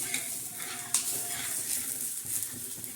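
Bajra flour dhapata flatbread with coriander cooking on a pan, a soft close sizzle with light scraping and a sharp spatula tap as it is flipped.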